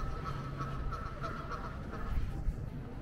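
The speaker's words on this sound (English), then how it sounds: "Look at these duckies." Ducks quacking at a water park in Bruges, a soft chatty series of quacks over a steady outdoor background, with light talk mixed in.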